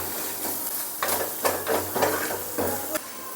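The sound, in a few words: masala with chilli and turmeric powder sautéing in pan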